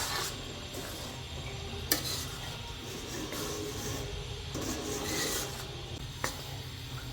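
Finely crushed almond powder being stirred and mixed by hand for adadiya, a steady close scraping and rubbing with a couple of light knocks, continuous and moderately quiet.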